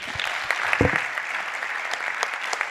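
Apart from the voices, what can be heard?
audience applause for panelists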